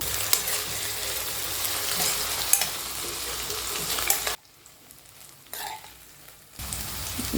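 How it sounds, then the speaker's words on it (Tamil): Pieces of brinjal cut lengthwise frying in hot oil, a loud dense sizzle that drops away briefly before surging back, with a few stirring knocks and no voices. "இது இந்த எண்ணெயில் நல்லா ஃப்ரை பண்ணி எடுத்துக்குவோம்"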